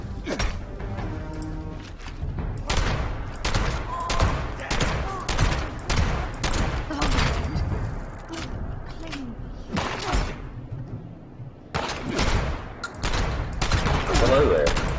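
Rapid bursts of video game gunfire crackle through the scene, with dense volleys and scattered single shots over several seconds, and a voice talks over part of it.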